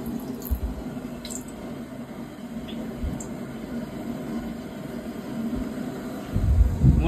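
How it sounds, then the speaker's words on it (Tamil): About three-quarters of a litre of cooking oil is poured into a large pot to make chicken biryani, a continuous soft liquid pour with scattered drips that grows slightly heavier near the end, without speech. "அதனால 3/4 லிட்டர் ஆயில் ஊற்றிட்டு இருக்கிறேன்."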